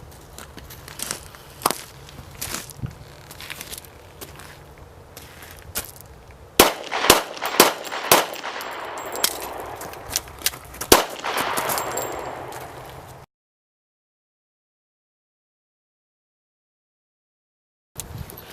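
Gunshots ring out right after a firearm reload demonstration, a string of sharp close reports in quick succession over a crackling, noisy background, followed by silence.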